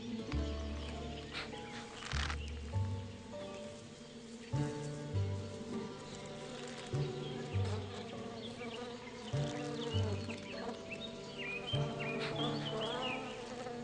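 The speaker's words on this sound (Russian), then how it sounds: "полном раздраженных пчел." A swarm of irritated wild bees buzzes densely around a tree trunk in Bashkortostan's Burzyan district, a steady close droning hum that swells and dips throughout, with faint bird chirps above it and no talking.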